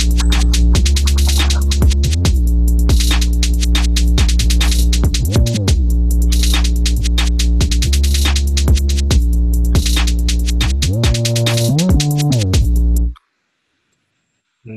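A full drill music drum kit groove with steady hi-hats, punchy snare hits and a deep kick over a bass line, playing loud and continuous before cutting off abruptly.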